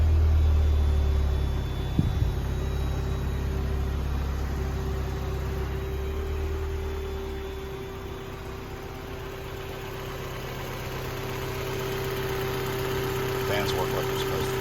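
Idling engine of a 1991 Mazda Miata just after a cold start, a steady low rumble with a constant mid hum, heavier in the first seconds and then settling into an even, moderately loud idle.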